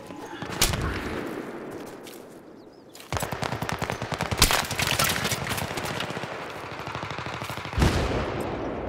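Gunfire in Battlefield 3 on the Caspian map, in a hardcore conquest match, comes as sustained rapid automatic bursts with a few heavier single cracks. The shots are fairly close and steady, with a noisy battle bed underneath.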